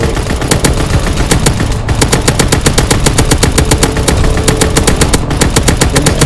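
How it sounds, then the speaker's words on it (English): Rapid machine-gun fire in Call of Duty: World War II, loud, continuous bursts of evenly spaced shots running throughout with dense battlefield noise beneath. "Can we continue to shoot in this one area, I guess?"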